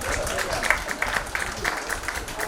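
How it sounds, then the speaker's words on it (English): An audience at a workshop quiz event applauds the two competing teams, a brief spread-out patter of clapping at moderate distance with some speech mixed in. "Can we give a good round of applause for team 1 and team 2?"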